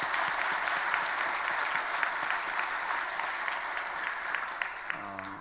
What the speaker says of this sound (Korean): 축복과 격려의 박수 한번 하겠습니다.